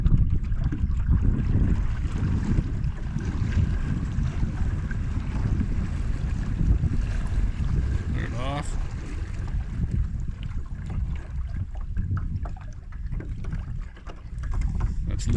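A homemade barrel boat's high-torque outboard motor runs at high speed, a steady loud broadband drone mixed with water rush and wind buffeting throughout, with one brief tonal sweep midway.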